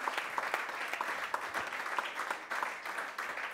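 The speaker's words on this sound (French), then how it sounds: "je voudrais qu'on les applaudisse et qu'on applaudisse Dricia" Quiet applause from an audience at a foundation event in France, a steady patter of claps with distinct individual hits, heard from a distance.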